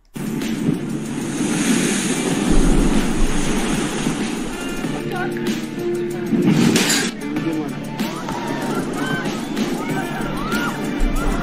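Swell waves breaking on the East Sea coast at Sokcho, Gangwon Province, a loud continuous roar of surf with a heavy crash midway, buffeted by wind noise on the microphone.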